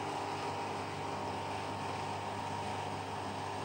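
Drain pump of an LG direct-drive washing machine running empty without water, a steady continuous hum and whir that stays even and fairly faint throughout, with no voices.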